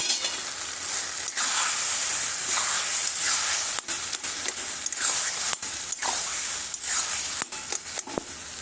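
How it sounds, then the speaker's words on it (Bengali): Fried peanuts hit a hot pan of taro stems and leaves, setting off a steady, bright sizzle that carries on close up with small crackles and brief dips, no talk. "ভেজে রাখা বাদামটা দিয়ে দিচ্ছি।"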